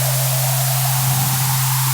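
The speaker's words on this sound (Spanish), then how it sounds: "Ahora mismo estamos escuchando dos operators, uno que está el ruido blanco y otro con la señal senoidal." A white noise generator layered with a sine wave synth in Ableton Live, giving a loud, constant broadband hiss over a steady low pure tone that holds unchanged throughout.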